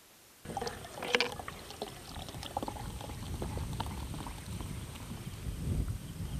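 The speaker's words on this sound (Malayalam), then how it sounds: "അപ്പോൾ ഇതിലേക്ക് നമുക്ക് സോഡ വീണ്ടും ഒഴിക്കാം." Soda pours into a watermelon kudam kalakki drink, a Palakkad-style sherbet. It starts abruptly and turns into a continuous close fizzing and bubbling, with a few sharper splashes near the start. No one speaks.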